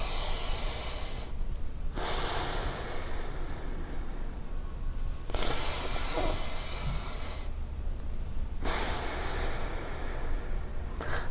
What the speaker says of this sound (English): I'm breathing in the left and exhaling through the right